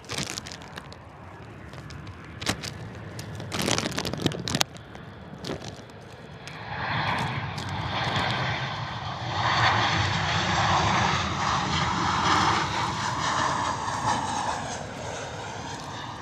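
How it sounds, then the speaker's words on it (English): A Ryanair airliner arriving from Dublin lands at Bristol Airport in wet, windy weather, its engine roar swelling from a distant rumble to a loud, steady broadband wash after a few sharp knocks near the microphone, then easing slightly. "nice touchdown there from Ryanair"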